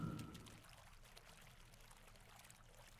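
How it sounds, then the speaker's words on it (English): Water running in the video game Astatos, a soft steady pouring and trickling, faint and continuous throughout, with no talking. "It's really just water noise"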